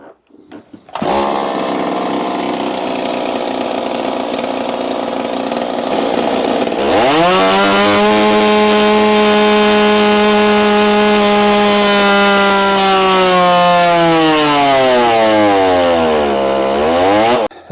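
Stihl 026 chainsaw with advanced timing and a modified choke, loud and close, starting at a lower running pitch, then revving hard to a sustained high scream before the pitch dips and climbs again near the end.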